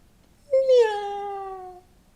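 A person imitates a cat with a single drawn-out meow, close and clear, rising sharply then sliding down and fading, with silence around it.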